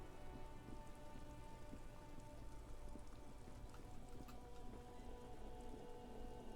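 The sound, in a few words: rain in the video game Disco Elysium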